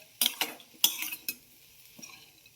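Metal utensil clinking and scraping against a pan while stirring a jaggery and coconut filling on the stove, several sharp taps and scrapes in quick succession, then quieter, close and alone.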